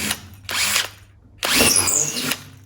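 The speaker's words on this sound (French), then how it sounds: "je perce le mur" A power drill bores into a wall in two short bursts followed by a longer, louder run. Each burst has a high whining grind with gaps of near silence between them.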